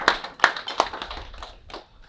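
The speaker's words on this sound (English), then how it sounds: "Clap your hands for yourselves right there" A few scattered hand claps from a church audience at a fathers' sermon, three sharp claps followed by softer, thinning ones, close and fairly quiet.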